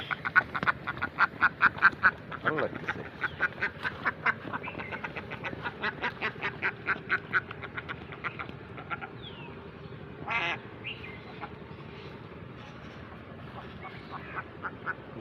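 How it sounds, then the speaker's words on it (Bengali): A duck on a hot rural Bangladeshi afternoon quacks in a long, rapid series of evenly spaced calls, fairly close, easing off near the end amid faint background outdoor noise. "এদিকে আবার একটা হাঁস"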